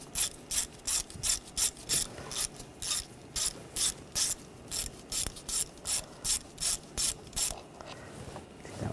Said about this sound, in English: Now using a 8 millimeter socket, take this screw out.